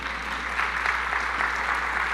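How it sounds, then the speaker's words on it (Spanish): A church congregation claps together during a Spanish-language sermon, producing dense, steady applause that fills the room at an even level for about two seconds with no talking. "Dale fuerte el aplauso al Señor."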